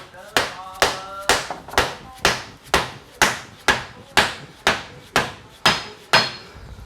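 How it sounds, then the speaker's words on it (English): A rubber mallet bumps the end of a CV axle on a Honda CR-V, thirteen evenly spaced, solid thuds at close range in a steady rhythm. "we'll take this rubber mallet. It's gonna bump the end of the axle, get it up on there"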